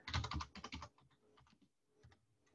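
Rapid keystrokes on a computer keyboard, a dense loud burst at first, then thinning into scattered lighter taps, close and alone without talk.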